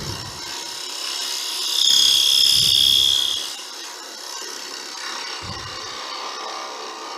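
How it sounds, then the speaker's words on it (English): A skew chisel held as a negative rake scraper cleans up the shape of a turned cocktail smoker on a wood lathe. It gives a steady scraping rasp that swells for about a second and a half over a faint background hum. "use a negative rake, or a skewer as a negative rake scraper to just clean up that shape"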